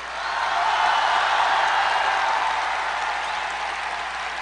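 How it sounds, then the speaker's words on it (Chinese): Steady broadband applause from an audience at a large 2016 Amway business conference hall, swelling quickly and holding at an even, full level for several seconds with no voices over it. "要鼓掌的时候就真的鼓掌吧"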